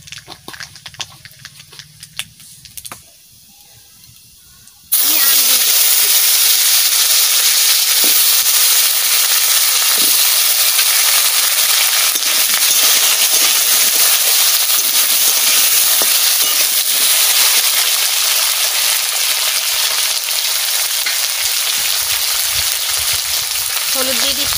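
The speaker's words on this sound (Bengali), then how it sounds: "তেল গরম হয়ে গেছে, আমি সর্ষে দিয়ে দিচ্ছি।" Mustard seeds hit hot oil for a fish masala curry: after a few seconds of quiet kitchen handling, a loud, close, continuous sizzle and crackle bursts in and carries on steadily to the end.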